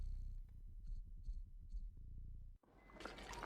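In the game Stray, a cat purrs close and steady in rhythmic low pulses for several seconds, then a brief gap and a brighter rushing game sound.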